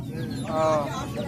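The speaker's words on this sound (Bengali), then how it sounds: "এটা কি আছে মুরগি আছে দেশি মুরগি" A desi chicken at a poultry market gives a brief, nearby cluck over faint background market noise.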